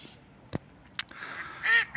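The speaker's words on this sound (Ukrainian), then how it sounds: "Качки, звісно, з нас сміються, що ми не піймали" A few ducks quack nearby at a flooded quarry pit in Kamianske, Ukraine, in short, scattered calls, a couple of sharp clicks between them, ending with a louder nasal quack.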